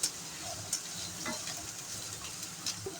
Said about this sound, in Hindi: अब इसमें मैं शामिल कर रही हूँ 1 प्याली गाजर बारीक कटी हुई।